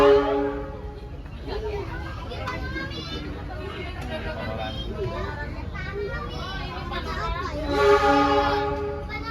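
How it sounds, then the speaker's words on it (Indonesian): A Bandung Raya commuter train rolls into track 1 at Cimahi station with a steady low rumble and clatter, a horn-like tone sounding briefly, while a person talks over the noise. "Ini kereta api komuter lain Bandung Raya sudah tiba di jalur 1 di stasiun"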